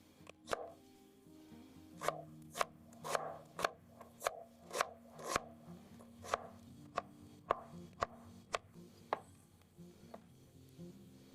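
A knife chops an onion on a board for a simple pizza sauce, giving a series of crisp, fairly quiet thuds at an uneven pace with short gaps between them.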